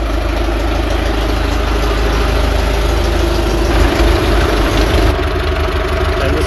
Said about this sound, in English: the rain stopped and both tractors are running